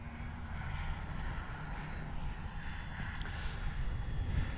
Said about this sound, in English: it's a great trainer plane